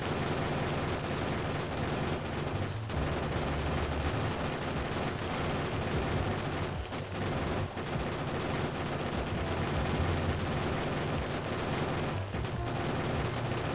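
Video game gunfire crackles in a dense, sustained stream of rapid shots, punctuated every second or two by sharper, louder bursts over a constant rumbling battle bed, with no talking.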